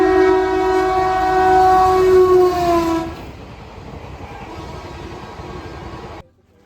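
A train passes at a railway level crossing: a loud horn blares for about three seconds, then the rumbling, clattering cars roll on steadily before cutting off.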